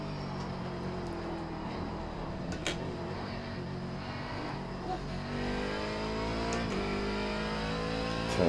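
C7 DP race car engine in iRacing at Mosport: a steady, loud harmonic engine drone holding near-constant revs, briefly dipping then rising again around the midpoint, continuous throughout with no voices.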